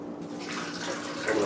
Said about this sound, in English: So I'm going to pour all the juice out of there.